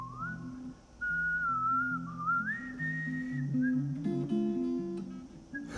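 Someone whistles, clear and close, a melody tracing the arrangement of a song. Lower sustained tones accompany it.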